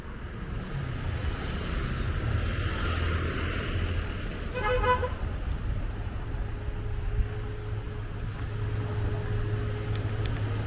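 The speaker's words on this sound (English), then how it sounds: "some nice honking to set the mood" A car horn gives a short honk in the middle of steady traffic rumble in Shillong, Meghalaya, India, with engines droning continuously nearby.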